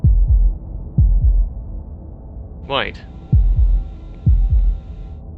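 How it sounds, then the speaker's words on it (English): Heartbeat sound effect in the video game Slay the Princess: deep, close double thumps repeating at a slow, steady rhythm, with a single spoken word and a brief rising tone in the middle. "That was the sound of a heartbeat, followed by another, and another."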